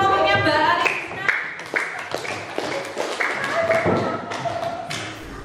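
A classroom audience claps for a presenting student group, scattered taps and claps rising unevenly over a few seconds while a voice speaks and tones ring in the background.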